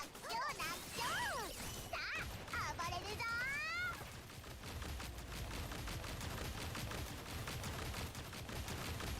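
Rapid bursts of gunfire fill a Duet Night Abyss shooting sequence, with dense cracks and impacts continuing throughout under a backdrop of sweeping, chirping game effects and a talking voice.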